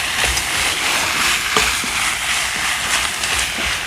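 Squid with green onion and chili pepper stir-frying in a pan, a steady sizzle with scattered clicks and taps of the utensil.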